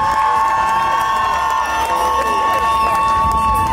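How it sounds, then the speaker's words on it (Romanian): A large outdoor crowd cheers and shouts at a Wine Day festival in Chisinau's Great National Assembly Square, a loud continuous roar of voices with some applause mixed in, steady for the whole stretch. "acum vă rog și eu aplauze pentru Ziua Vinului"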